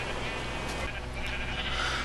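Sheep bleating in a Minecraft-style video game while the player dyes sheep different colours, a steady blocky bleat held at moderate level against constant low background hum, with no talk over it.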